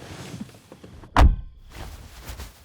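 A car door shuts with a single solid thunk as someone gets out of the car, heard close up amid quiet rustling with no talk.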